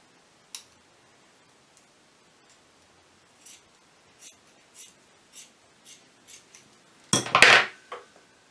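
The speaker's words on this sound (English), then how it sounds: "So I'm just going to cut it in a slant." Scissors cut paper for a snowman craft in a quiet room, giving a series of short, faint snips spaced about a second apart, then a louder, longer burst of cutting near the end.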